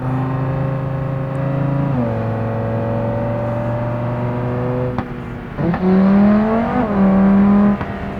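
Car engine in BeamNG driving game, a loud steady drone with gear-shift drops, then sharp revving surges near the end.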